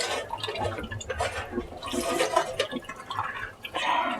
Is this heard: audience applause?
no